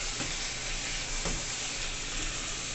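Pepper steak sizzling and frying in a pan while being stirred, a steady broadband hiss with occasional scraping stir sounds, close and continuous with no talking.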